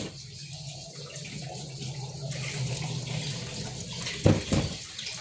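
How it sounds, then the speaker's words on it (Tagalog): A strong stream of water runs from a kitchen tap in a small kitchen, a steady rushing hiss that swells into a louder gush and splash near the end. Faint talk is mixed in. "Lakas yung tubig dito"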